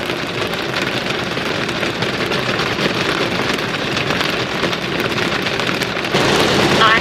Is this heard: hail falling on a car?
yes